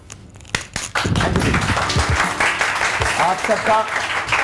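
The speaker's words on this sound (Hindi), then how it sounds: "तालियां" Studio audience applause on a TV morning show, starting with a few scattered claps and then swelling into loud, close clapping from a crowd, with faint voices mixed in.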